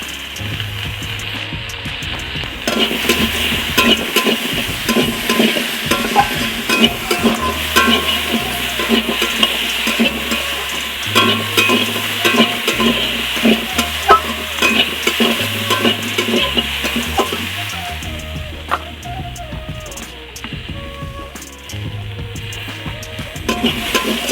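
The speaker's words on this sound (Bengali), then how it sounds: "আর একটু তেল দিয়ে দিচ্ছি আর তার সাথে হলুদ গুঁড়া দিয়ে দিচ্ছি" Oil and turmeric powder stirred in a hot pan in a village kitchen: continuous frying sizzle with steady rhythmic scraping strokes of a spoon against the pan, fairly close and with no talking.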